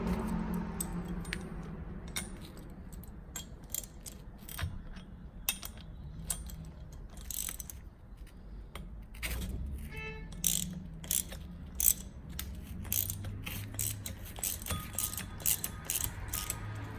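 A hand ratchet clicks in short, irregular bursts as it loosens the turbo compressor on a Volvo 850, quiet and close, with metallic clinks between the bursts.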